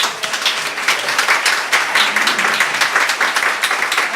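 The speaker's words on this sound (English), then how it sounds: "I think we should give a round of applause to Brian and Helen Herman for turning" An audience applauds steadily with dense, even clapping throughout, loud and continuous, with no voices standing out.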